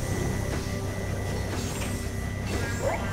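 A train smashing through a museum in the LEGO City Undercover video game rumbles steadily, with faint clanks and mechanical rattles over a constant low drone.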